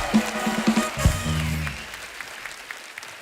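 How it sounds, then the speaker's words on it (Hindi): Studio audience of a comedy talk show welcoming guests with broad, steady applause. A brief tonal musical sting sounds near the start, then the clapping fades to a softer wash. "तो एक बार जोरदार तालियां हमारे मेहमानों के लिए,"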